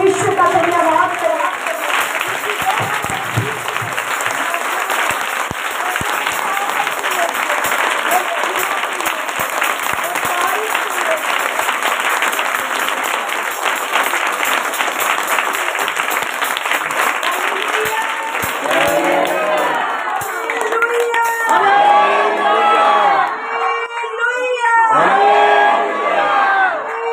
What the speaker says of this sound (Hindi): जोर से ताली बजा के परमेश्वर का धन्यवाद करें